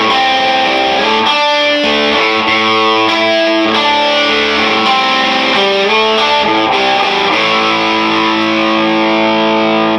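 A Mexican-made Fender Telecaster Player HH electric guitar played through heavy distortion on the bridge pickup, with loud sustained chords and riffs that ring close and alone, without any speech.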